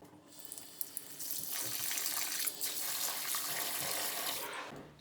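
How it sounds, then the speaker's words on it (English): Water from a long garden hose splashes and gushes steadily into a shower pan, a continuous close hiss after a few light knocks at the start, stopping abruptly at the end. "put some water in the middle"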